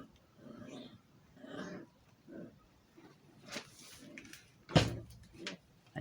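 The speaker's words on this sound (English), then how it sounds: "our dogs can play like this for hours." Dogs play together at home, letting out bursts of snuffling grunts and low growls in uneven spurts, with one sharp loud yelp or thump near the end.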